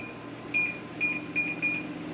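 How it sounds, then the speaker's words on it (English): Kitchen timer sounding while sourdough bread bakes in a convection oven: four short, clear electronic beeps in an even rhythm over a low appliance hum, with no voices. "The timer's gone off"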